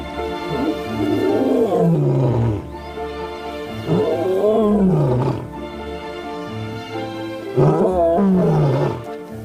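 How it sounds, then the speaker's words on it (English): A lion roars in three long, deep, groaning bouts, each swelling and then sliding downward, loud and close with short pauses between. "Juveniles rarely roar, but when they do, it's often full of meaning about their pride"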